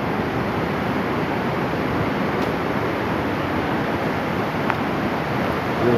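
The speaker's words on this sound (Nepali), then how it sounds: "खोला उताबाट बगिरहेको छ।" A hillside river flows below a bridge, a steady broadband rush of water heard continuously with no voices.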